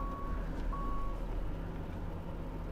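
A single high electronic indicator beep sounds twice in quick succession, heard after releasing the brakes, over a steady low engine rumble inside a 2006 Windsor motorcoach.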